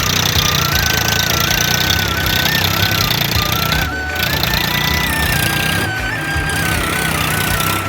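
A loud, heavy engine chugs and rumbles continuously at close range, with a rough knocking drone and brief dips in intensity.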